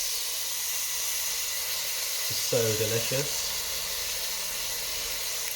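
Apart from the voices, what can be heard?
crickets sizzling in teriyaki sauce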